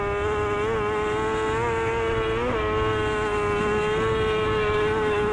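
Onboard a racing motorcycle at full throttle on a road race course at Bray Hill, the engine holds a steady, high, droning whine with a brief pitch dip partway through.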